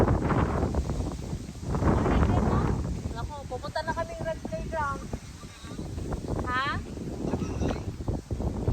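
Strong wind gusting through a park on a cloudy day, a steady broad rush that swells and eases throughout, heard under close conversational speech and a few higher voices.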